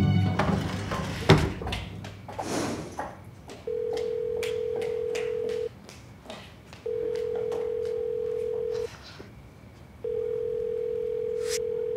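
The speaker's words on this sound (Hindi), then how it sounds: "उठा लो बेटा, उठा लो फोन।" A telephone rings in repeated long electronic tones with pauses between, preceded by some clattering and movement.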